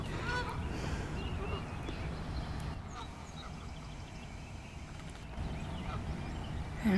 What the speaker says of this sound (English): 2 more geese have arrived.